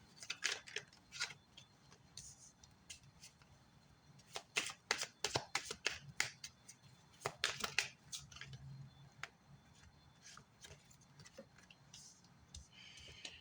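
Tarot cards are shuffled and drawn in quiet bursts of quick riffling snaps and flicks, some close clusters and softer single taps between, with no talking.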